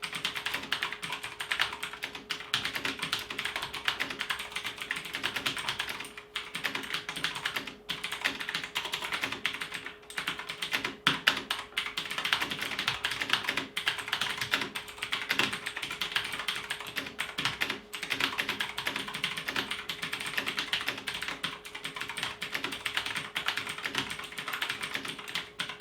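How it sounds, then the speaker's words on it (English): Continuous typing on a Marvo BigBang P1 KG965G mechanical gaming keyboard, dense clattering keystrokes in a steady rapid rhythm, close and even in level with a faint constant tone underneath and no talking. "the keys don't have echo while typing on all"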